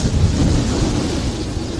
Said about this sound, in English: But the storm is approaching.